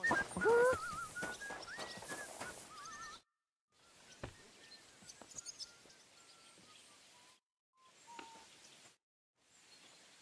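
A horse in the medieval open-world game Kingdom Come: Deliverance 2 snorts and whinnies near the start, followed by soft intermittent game ambience with faint birdsong and small clicks, broken by brief silent gaps.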